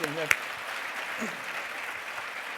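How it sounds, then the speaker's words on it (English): A crowd claps steadily, a dense even patter of many hands, with a brief voice and a sharp knock at the very start. "Let's give a round of applause."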